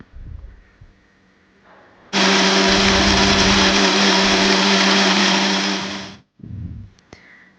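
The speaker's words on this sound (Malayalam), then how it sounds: "അതിലേക്കിട്ട് ഒന്ന് മിക്സിയിൽ എല്ലാം കൂടി ഒരുമിച്ച് അടിക്കാം" A mixer grinder whirs loudly for about four seconds, blending melted jaggery syrup for neyyappam batter, starting abruptly and cutting off, with quieter kitchen handling before and after.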